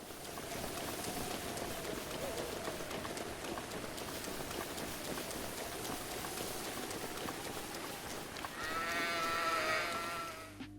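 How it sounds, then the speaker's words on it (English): Steady rain falls on a grassy field in Breath of the Wild while sheep gather under trees, a few bleats rising near the end over the constant wash of rainfall. "the sheep will gather under the trees to protect themselves from the rain"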